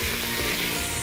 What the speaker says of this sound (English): once the vegetables are cooked, then you're going to add your meat into the pot